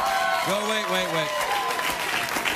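Late-night talk show studio audience applauding steadily throughout, a dense wash of clapping with a voice speaking over it at the start.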